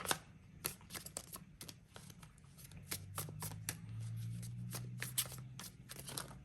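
Tarot cards being shuffled by hand in a quiet room, a rapid run of crisp riffling snaps with a few louder flicks as cards spill loose, no talking.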